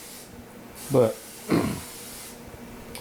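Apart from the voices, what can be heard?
cooking spray on burger buns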